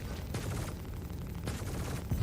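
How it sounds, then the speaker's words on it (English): Ballistic cannon fire hammering a ship in the space game Star Citizen, a Drake Cutter taking hits, heard as a steady dense low rumble with a couple of sharper impact bursts, no voices. "we're tanking a lot of fire from these ballistics on us"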